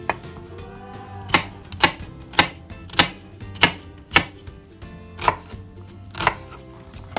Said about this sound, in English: we'll just finely chop this up. Not finely chop, roughly chop for the soup.